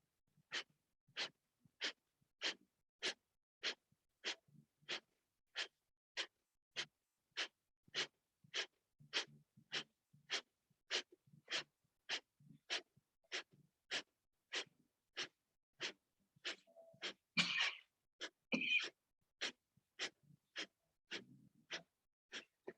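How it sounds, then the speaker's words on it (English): Rapid, forceful nasal exhalations of kapalabhati yoga breathing during a yoga session, about thirty sharp puffs in a steady even rhythm, close and clear, with a short pause and louder breaths near the end. "Now this is called, it translates as skull shining breath."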